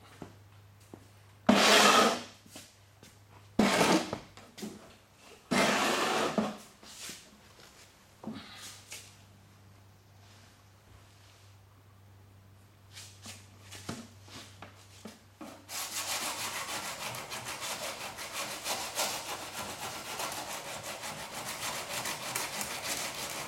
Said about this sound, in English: I'm using this 40 grit again.